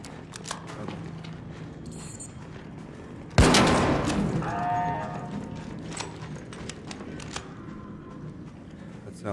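A Rocketeer enemy drone in the video game Arc Raiders lets off one sudden loud blast near the middle, with a rumbling, whirring tail that fades over a few seconds beneath steady game noise and scattered clicks.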